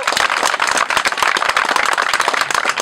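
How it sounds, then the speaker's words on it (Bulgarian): Audience applause at an anniversary gathering of a Moskvich car club in Bulgaria, a dense, loud, continuous wash of many hands clapping nearby with no pauses. "Искам аплодисменти и най-вече освиркване."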